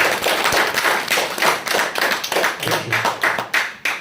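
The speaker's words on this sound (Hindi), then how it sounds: "आप सब बढ़िया से ताली बजाइए, कंजूसी मत कीजिए" Audience clapping in a motivational class session, a steady run of loud, close hand claps in a rhythmic sequence.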